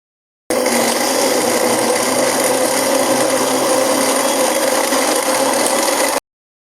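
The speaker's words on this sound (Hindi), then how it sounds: "मैं यहाँ पर बर्फ़ भी शामिल करूँगी, साथ में ही ग्राइंड करेंगे बर्फ़ डालकर।" A blender grinds fresh pineapple with ice for juice, a loud, steady, harsh whirring roar that starts abruptly, holds without a break for about six seconds and then cuts off.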